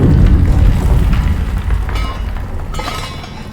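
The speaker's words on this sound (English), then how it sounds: "you can also faintly hear the gunshots and the bombing from the war that's going on right above your head" Deep, muffled booms of war rumble in the distance above an underground bunker in the video game Amnesia: The Bunker, a continuous low roar with faint crackling bursts like far-off explosions and gunfire.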